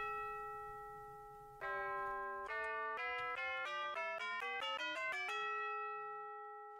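Pulled from video game files, a sequence of bright, ringing chime tones plays up and down a scale, each note sustaining and overlapping before a long held tone fades away, alone and clear.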